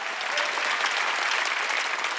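Church congregation clapping hands together in steady, dense applause, loud and continuous throughout with no pauses.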